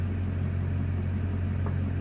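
LB7 Duramax diesel engine idling steadily just after a cold start, a loud continuous low rumble with a constant rhythmic knock throughout and no voices.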